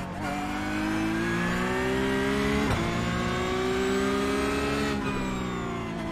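A race car in iRacing drives at full throttle with a sustained high engine whine that climbs slowly, dips briefly twice at gear changes or lifts, and then pulls again, loud and close, with no voices.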